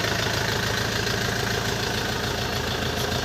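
Idling engine of a Scout forty-horsepower mini tractor fitted with a Kremov motor, a steady close low rumble with even knocking pulses and no talk over it.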